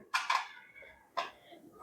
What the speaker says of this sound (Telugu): ఇవి గిన్నెలు మళ్ళీ ఇట్లా తీయొచ్చు